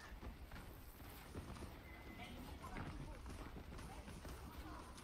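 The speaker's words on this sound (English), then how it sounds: "I just hear footsteps everywhere." Footsteps in the shooter game Overwatch 2, a steady patter of running and walking steps over busy game noise and voices talking.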